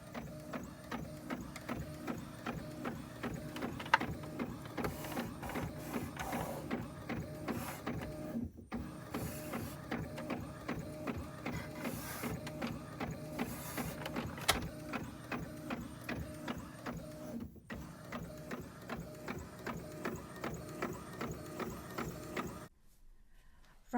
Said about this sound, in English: I'm going to start by downloading and printing the picture.